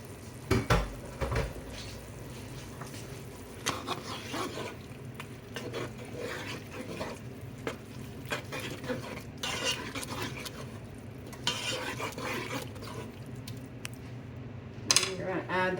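Celery and onions go into a pot for blue crab bisque and are stirred, giving a low sizzle mixed with repeated spoon scrapes and metallic pot clatter throughout, close and moderately loud.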